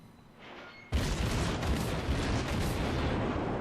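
Warship guns firing in World of Warships, from the cruiser Murmansk on the Ocean map: a quiet hum breaks into a loud, sudden salvo, then a dense sustained roar of rumbling gunfire and blasts continues.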